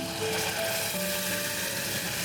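Curry gravy for a restaurant-style mixed vegetable curry hits a hot frying pan, giving a steady, soft sizzle and hiss that runs evenly without pause, with a faint tonal whine underneath.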